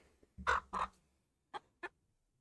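A young Turken chicken, a bare-necked breed, gives four short clucks up close: two louder ones in quick succession, a pause, then two softer ones, with no talking.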